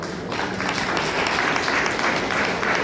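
An audience applauds at the opening of the Jhenkara program for a makeup and beautician course in Bangalore. Many hands clap in a steady, dense wash that holds at full strength throughout, with no voices on top.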